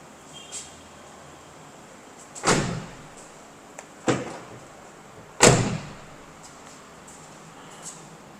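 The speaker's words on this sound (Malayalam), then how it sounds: "ബാക്കിലെ ഡോറും തുറക്കാം" Several separate door thuds and clunks from a Land Rover Defender 110, including the rear door, a few seconds apart, with quiet background between them.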